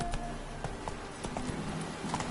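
Horse hooves clip-clop steadily in The Witcher 3 as the mount trots along, a close, continuous rhythmic patter of game sound effects with no talking over it.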